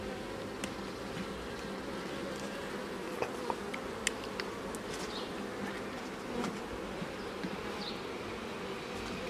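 Bees swarm around an open beehive during an inspection, a dense, steady buzzing hum close by, with individual insects zipping past now and then and no talk.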